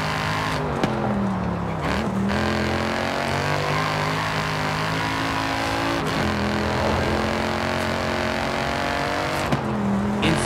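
The 2012 Mercedes-Benz C63 AMG Coupe Black Series engine in the Forza Horizon 5 racing game pulls hard through the revs, with a continuous loud roar, rising pitch sweeps and brief dips at gear shifts.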